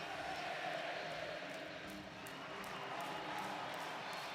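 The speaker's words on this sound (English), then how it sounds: "Listen to the crowd." Massive stadium crowd at a University of Oregon football game against USC, a dense continuous roar of cheering, loud and steady throughout with slight swells.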